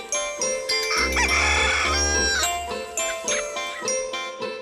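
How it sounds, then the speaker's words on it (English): A rooster crows loudly and up close, with a long strained cock-a-doodle-doo call followed by shorter repeated crows and clucks. "Rooster,"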